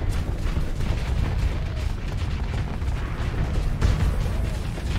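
Continuous spaceship weapons fire and missile impacts in the Starsector space combat game, a dense, loud wall of rumbling booms and crackling blasts with no break across the whole stretch.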